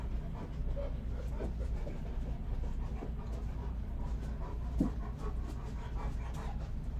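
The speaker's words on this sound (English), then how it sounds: "Why are you barking?" A dog pants steadily over a constant low rumble, with faint whimpers and a brief sharper bark-like sound near the end. Nobody speaks.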